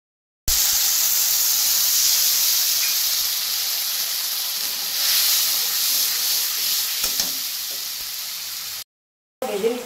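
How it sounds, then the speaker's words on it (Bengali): Spices fry in hot oil left over from frying potatoes, giving a loud, continuous sizzling hiss that runs steadily for several seconds, then cuts off briefly before resuming. "আলু ভাজার তেলের মধ্যেই আমি মশলাটা দিচ্ছি"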